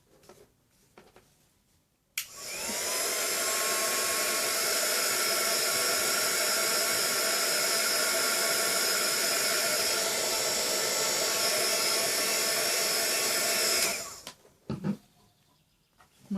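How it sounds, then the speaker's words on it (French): A hair dryer blows steadily for about twelve seconds, drying handmade craft flowers, starting abruptly and cutting off sharply, with near silence before and after. "On va le sécher au Top Gun"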